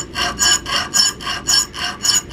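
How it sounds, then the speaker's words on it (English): A chainsaw file rasping on the choil of a steel knife: loud, steady back-and-forth strokes, about eight evenly spaced scraping passes, close up with no talk. "I'm going to use a chainsaw file. I decided to do the choil."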